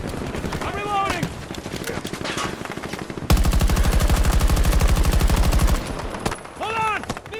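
Close, loud automatic gunfire in a Battlefield 2042 battle, with dense rapid bursts and a sustained burst of machine-gun fire in the middle. Shouted voices come between and over the shots.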